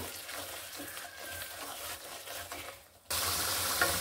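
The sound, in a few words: frying and stirring spice paste (masala) in a pan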